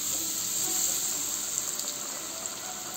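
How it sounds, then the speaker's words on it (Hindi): Coated potato pieces fry in hot refined oil in a kadhai, giving a steady, dense bubbling hiss that runs unbroken throughout at moderate loudness, with no voices. "तो चलिए, अब जो हमने आलू के पीसेस बना रखे हैं उसको फ्राई करते हैं।"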